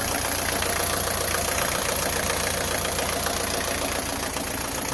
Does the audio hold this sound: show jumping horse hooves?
no